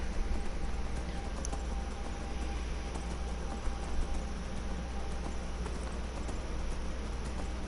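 A horse in the video game Skyrim, a steady, even clip-clop of hooves repeating throughout at moderate volume over a soft background hum.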